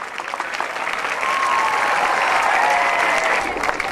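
Sustained applause from an audience at a Teachers' Day function, steady and dense throughout, with a faint tonal whistle-like trace in the middle and no clear talk over it.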